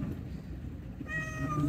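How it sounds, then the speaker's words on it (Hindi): A hungry cat meows affectionately at a truck stop in Saudi Arabia, a few soft, close, tonal calls rising in the second half over steady low background rumble from the idling surroundings. "प्यार से म्याऊं म्याऊं कर रही है"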